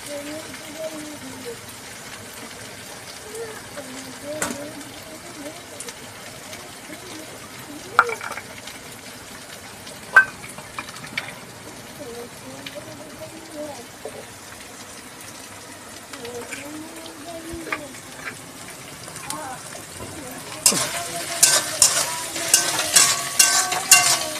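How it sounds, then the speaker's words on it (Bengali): Garlic frying in a kadai with a low sizzle and occasional spatula knocks, while a voice talks through much of it; the sizzle swells louder near the end. "রসুনটাই তো ভাজতে ভাজতে কি দেরি হবে।"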